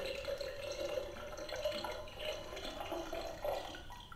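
A toy doll-kitchen water dispenser plays its recorded water effect, a steady trickling, running-water hiss with faint drip-like accents, continuous and fairly quiet with no voice over it.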